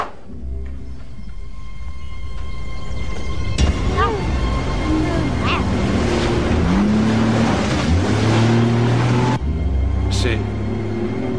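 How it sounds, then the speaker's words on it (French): A motor engine drones steadily in the background as voices murmur, with a few sharper knocks and shifts in pitch. "C'est un moteur qu'on entend."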